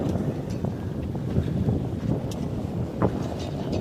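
Steady broadband wind roars across a Cape Dory 25 sailboat running at sea under jib alone, with faint knocks and rushes of water beneath the gusts.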